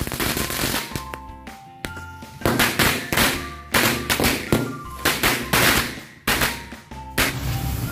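Lit New Year lighter-style firecrackers (petasan korek) going off outdoors, a rapid series of sharp loud cracks and pops in uneven bursts, some crackling in quick clusters, close by and with no talking.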